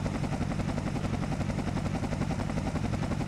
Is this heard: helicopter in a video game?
yes